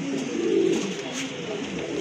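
A pair of pigeons offered for sale coos softly and close by, one low rolling coo standing out amid faint background noise.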